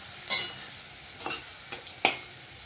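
Dal is tempered in a hot pan with onions fried red, bay leaf, dried red chillies and five-spice. A low sizzle runs throughout, broken by several sharp bursts as the pan is stirred; no one speaks.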